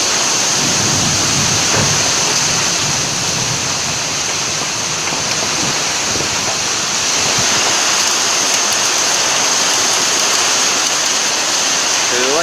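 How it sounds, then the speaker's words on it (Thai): Heavy summer-storm rain with hail pours down in Sakon Nakhon, Thailand, a loud, dense, unbroken roar that masks everything else, with possible low rumbles of thunder beneath. "พายุเข้าสกลนคร"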